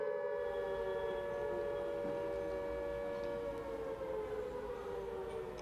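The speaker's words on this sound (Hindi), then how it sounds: "जयपुर शहर के अंदर 22 स्थानों पर एक साथ सायरन बजाया गया" A loud, steady civil defense siren wails continuously during a mock drill in Jaipur, its sustained tone holding with a slight downward drift, filling the whole stretch without voices.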